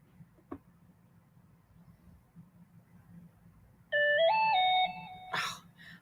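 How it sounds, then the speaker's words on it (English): Mobile phone ringtone, a bright electronic melody of stepped tones that starts suddenly, rings loud and close for about a second, then cuts off, followed by a short burst of noise over a quiet background. "Oh, my phone has to start going off every time I go live."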